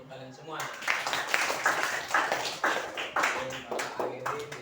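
Students in a classroom clap for each other in a steady, fairly close round of applause after a teaching practice session, with a few voices talking over it.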